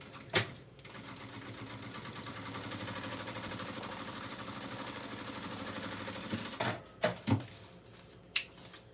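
A sewing machine stitching small Barbie doll clothes runs in one steady mechanical whir for several seconds, bracketed by a few sharp clicks and knocks before and after.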